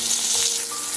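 Tomatoes frying together with onions in a pan for an egg and cauliflower curry, giving a steady close sizzle with a faint tonal hum, no voices.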